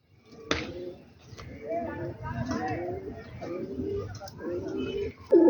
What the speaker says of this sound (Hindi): पुराने टैडी कबूतर हैं